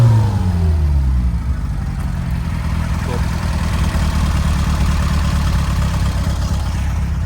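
A car engine with a 1725cc build revs up strongly and holds at a steady, loud, throaty roar close by, with a low rumble throughout.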